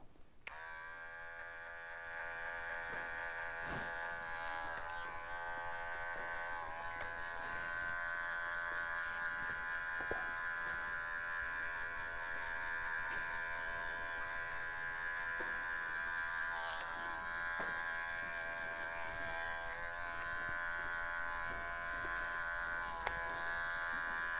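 Cordless adjustable barber clippers taper hair at the bottom and sides in a barber shop, giving a steady, close electric buzz that runs continuously with small clicks and tonal shifts as the blade moves through the hair.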